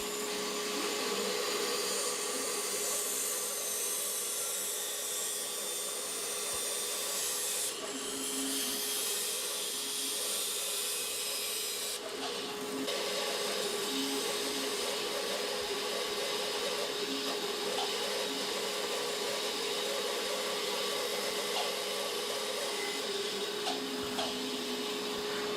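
A bandsaw cuts a wooden banana blank, whining steadily and continuously at moderate distance, the pitch of the cut shifting as the blade bites the wood, with no voices.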